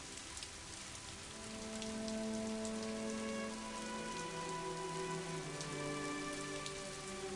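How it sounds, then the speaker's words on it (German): Steady rain pattering on a surface, with dense drops and a constant wash of sound throughout, no voices. "Der Regen."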